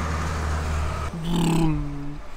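Heavy traffic with large trucks passing on a main road in the Bavarian Alps, a steady low rumble that swells as a loud vehicle goes by nearby, with no voice over it.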